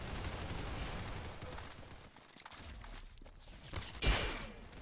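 Sustained rapid gunfire in a shooter video game, a dense unbroken fusillade that dips briefly in the middle and ends with a louder, sharper blast near the close. No voices.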